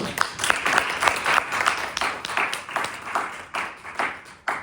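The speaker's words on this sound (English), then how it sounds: "Let's give a huge round of applause." Audience at an event gives a loud round of applause, dense clapping with rising and falling swells, close and continuous throughout.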